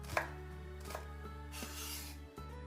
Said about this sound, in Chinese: 准备2个刚摘下来的辣椒，切掉头部不要，然后把辣椒切成圈圈